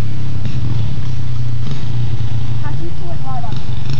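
Kawasaki KLX125 dirt bike engine droning on a hill climb, loud and steady with a rough low chug and mid-revs, voices talking over it.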